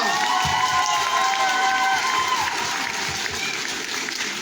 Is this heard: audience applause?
yes